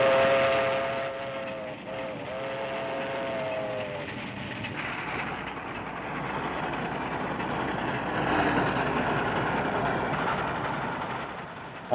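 Trains at the Buffalo, New York rail yards in 1949 rumble and clatter steadily, opening with a long multi-tone train whistle blown twice before the rolling wagon noise carries on alone.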